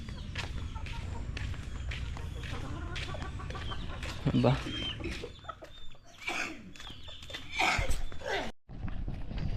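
Chickens cluck repeatedly close by under and between speech, with a brief louder squawk in the middle and footsteps or shuffling around them.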